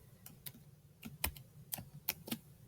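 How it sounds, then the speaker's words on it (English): Scattered keystrokes on a computer keyboard, a handful of quiet, close clicks in an uneven rhythm with short pauses between them and no voices. "And so now I can just type right in there."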